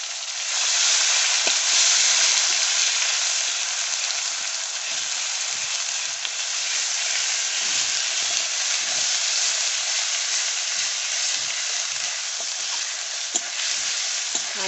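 Tomato pieces with garlic and onion paste sizzle steadily in a pan for a spicy Bengali fish curry, a loud continuous hiss with faint scraping stirs running through it, no voices.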